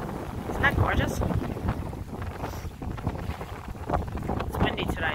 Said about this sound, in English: It's windy today, so it's a little...